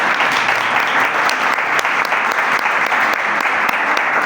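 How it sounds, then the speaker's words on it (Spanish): Loud, steady applause from an audience thanking a panel at a clinical conference on pediatric physical medicine, rehabilitation and physiotherapy, dense clapping running continuously throughout. "por favor, un fuerte aplauso para nuestro panel"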